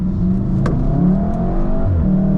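A 2018 VW Golf R with a four-cylinder turbo engine accelerates hard, its steady loud engine note rising through the gears with brief shift breaks, heard close from inside the car.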